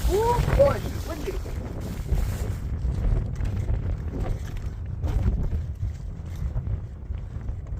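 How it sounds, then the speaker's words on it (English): Wind blowing outdoors during an oil change on a 1999 Honda TRX 300 FW ATV, a steady low rumble buffeting the microphone, with a brief voice at the start. "Oh boy, it's windy."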